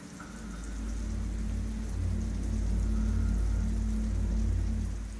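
Steady rain falls in a constant soft hiss, with a low rumble underneath, and no voices.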